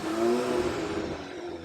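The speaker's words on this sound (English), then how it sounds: "we're just going to show you what the stock system sounds like on this car" Stock exhaust of a VW Mk8 GTI running steadily nearby, a smooth, subdued engine drone with a slight rise in pitch early on and a muted, vacuum-like hum throughout.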